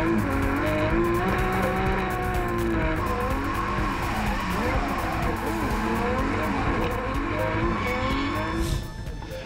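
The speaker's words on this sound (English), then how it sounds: "Nico's pulled out of the drift there, Chase." Drift cars, including a Nissan S15 Sylvia, slide through a D1NZ battle at Hampton Downs Motorsport Park, engines screaming and bouncing off the limiter over long, loud tire squeal, fading slightly at the end.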